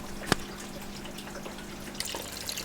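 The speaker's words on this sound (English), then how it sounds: "we have the shrimp drip acclimating now" Water drips into a container during drip acclimation of crystal red shrimp for a paludarium, one clear close drip followed by fainter small splashes against a steady room hum.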